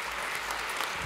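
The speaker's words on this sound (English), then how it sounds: "Round of applause for Kobe and his family." A brief, dense wash of crowd applause at an EMS conference, steady and fairly loud throughout the short moment.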